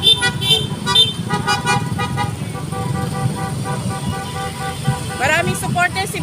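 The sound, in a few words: BBM political caravan of cars passing by, honking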